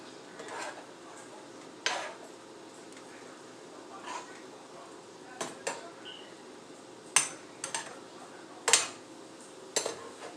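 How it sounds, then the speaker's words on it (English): Shrimp flipped in a frying pan while making shrimp pasta, heard as a scattering of light, sharp clinks and scrapes of utensil against pan over a low steady sizzle, with no talking. "we're going to go ahead and flip our shrimp"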